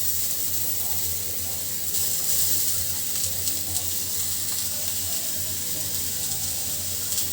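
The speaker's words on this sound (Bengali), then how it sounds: "দিয়ে দিচ্ছি এর ভিতরে পেঁয়াজ কুচি" Chopped onion sizzles in a hot wok (kadai) during village-style home cooking, a soft, continuous frying hiss over a low background hum.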